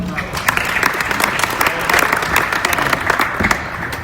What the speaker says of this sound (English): give a big round of applause to Buddy Carlisle.